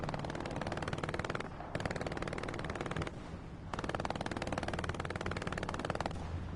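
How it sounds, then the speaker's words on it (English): Rapid, continuous machine gun fire from both sides in the World War II shooter Hell Let Loose on PS5, loud and dense bursts rattling on with only brief lulls. "Both teams laying down some MG fire off the bat"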